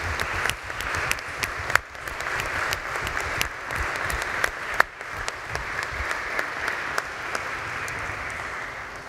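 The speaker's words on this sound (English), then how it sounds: "perhaps you can join me in a round of applause for all those individuals who have helped us be here" A round of applause from the congregation at a Catholic Mass at Boston College, steady clapping at moderate level with a few sharper claps standing out, no talking.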